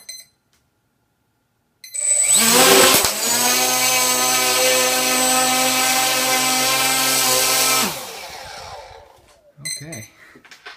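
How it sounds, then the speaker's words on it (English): Quadcopter motors spin up to a loud, steady high-pitched whine that holds for about six seconds, then winds down and cuts off, with short clicks and noises before and after. "the quadcopter, 2 of the motors were spinning quite fast"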